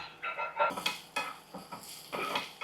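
Tempering spices of chana dal, mustard seeds, cumin, curry leaves, dried red chillies, garlic and asafoetida being stirred in a pan, with repeated close scraping and clinking of a metal spoon against the pan and a faint sizzle between strokes.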